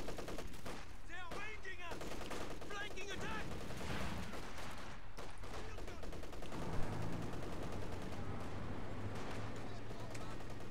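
Automatic gunfire from a German flak half-track in the real-time strategy game Company of Heroes, rapid bursts mixed with other battle noise under a commentator's steady talk.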